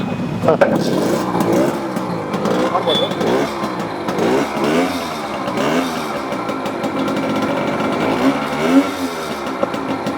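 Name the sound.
Yamaha RX100 motorcycle engine starting and revving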